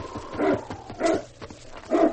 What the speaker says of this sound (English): Say, that's a dog team.